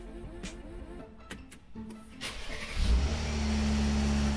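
Car engine starting with the key fob kept inside a microwave oven: a few faint clicks and quiet handling, then the starter cranks and the engine catches, settling into a steady idle hum.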